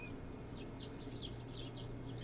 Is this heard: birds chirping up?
yes